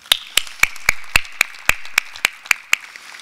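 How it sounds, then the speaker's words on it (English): Steady, evenly paced clapping at a university graduation ceremony: about a dozen sharp, close hand claps in a regular rhythm, loud and clear with no talking over them. "would you join me in a second round of applause for all of those who have supported us in our accomplishments so far?"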